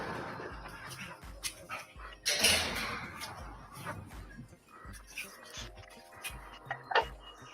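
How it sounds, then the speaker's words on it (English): A dog at the kennels barks and whimpers in short, scattered bursts, fairly quiet and close, with sharp yelps standing out between softer whines. "records a 50-second video of Rogan Gibbs' dog Cash down at the kennels"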